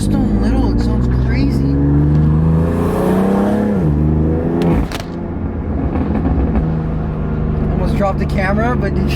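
Loud, close exhaust from a BMW F80 M3 with catless downpipes revving hard, with a deep droning rise, a sharp drop, and a second climb while excited voices speak over it.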